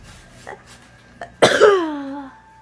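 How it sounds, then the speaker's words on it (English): A loud, close cough bursts out after a brief quieter vocal sound, with a tonal, raspy tail that trails off over about a second, heard in an indoor crafting setting with no talk. "I was coughing."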